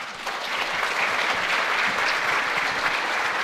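A debate audience at a stem cell forum keeps up steady, dense applause, close and even throughout the few seconds with no voices over it.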